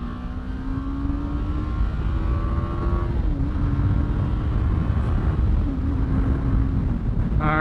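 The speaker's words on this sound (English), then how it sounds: "Gonna get onto the highway here in third gear in both bikes." A BMW G 310 GS motorcycle accelerates onto a highway in third gear, its engine note rising steadily and then leveling off under heavy wind roar, close and continuous.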